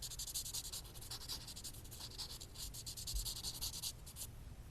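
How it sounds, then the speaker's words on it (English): A DIY ring's edges being smoothed with 1000 grit sandpaper, quick rhythmic scratchy rubbing strokes in short bursts, close and quiet, stopping near the end. "To smooth the edges, I use like 1000 to 1500, but I think this one is 1000 grit."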